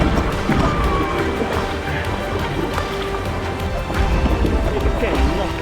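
Electric Boost Surf Fin on a paddleboard knocking and scraping against rocks in a shallow river, a loud continuous rumble of clatters and thumps over rushing water, with a person talking throughout.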